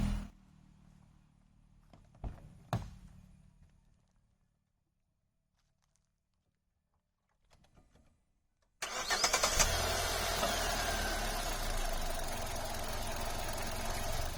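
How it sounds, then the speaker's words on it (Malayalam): A 2020 Hyundai Grand i10 Nios BS6 1197 cc petrol engine cranks and catches after a quiet stretch with a few light knocks, then settles into a steady, loud, close idle that runs to the end with no talk. "ഈ വാഹനത്തിന്റെ എഞ്ചിൻ ഒന്ന് സ്റ്റാർട്ട് ചെയ്തതിന്റെ വൈബ്രേഷൻ സൗണ്ട് ഒന്ന് നോക്കാം"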